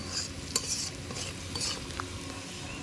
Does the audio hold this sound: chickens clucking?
no